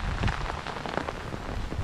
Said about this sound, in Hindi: तो अभी बारिश स्टार्ट हो गई